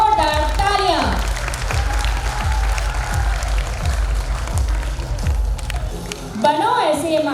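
Applause for a student at the Rajasthan Academy Secondary School annual function in Udaipur, a broad steady patter from a school audience running under music and talk, with voices throughout.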